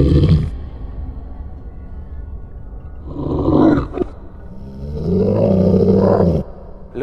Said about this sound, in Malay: ada satu suara seakan menderam ataupun mengaum yang sangat garau dan juga garang